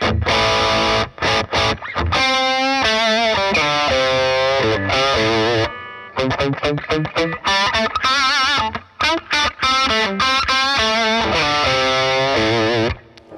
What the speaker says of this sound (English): I've got a Mythos Mjolnir, which is like a Klon thing.